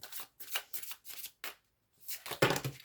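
Tarot cards being shuffled by hand: five quick riffling bursts in a steady rhythm, a short pause, then a louder final shuffle, close and clear with no talk.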